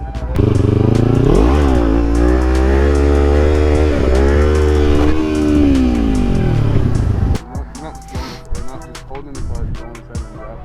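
A 2023 KTM 500 EXC-F dirt bike engine revs loud and close, its pitch sweeping up and down through several throttle blips, then dropping to a rougher, uneven idle with clatter toward the end.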